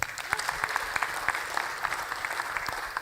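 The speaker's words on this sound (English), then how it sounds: "Another round of applause." Audience applause at an AI conference, a steady wash of many hands clapping with a few sharper individual claps standing out, moderately loud and continuous throughout.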